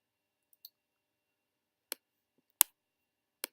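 A computer mouse gives a handful of sharp, isolated clicks, spaced irregularly with quiet gaps between them, close and crisp in an otherwise silent room.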